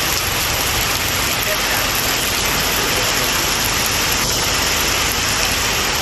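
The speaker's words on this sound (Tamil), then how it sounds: "பலத்த காற்றுடன் மழை பெய்தது" Heavy rain driven by strong wind, a dense, steady roar of falling water that fills the whole stretch with no pause or change in level.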